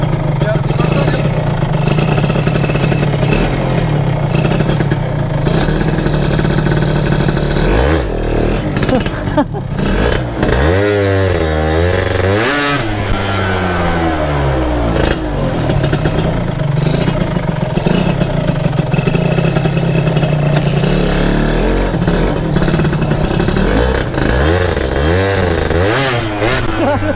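Motorcycle with a stiff clutch that needs adjusting, idling loudly up close while the rider struggles to shift into neutral, with several revs rising and falling over the steady engine rumble as people talk throughout.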